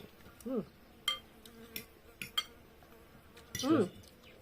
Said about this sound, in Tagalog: May ano po, langaw.